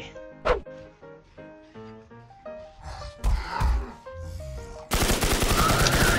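Pistol shots ring out in the zombie survival shooter Infestation The NewZ: scattered sharp cracks amid game music, then a dense, loud burst of rapid fire near the end.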